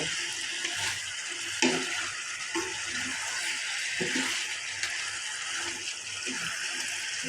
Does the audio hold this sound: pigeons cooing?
no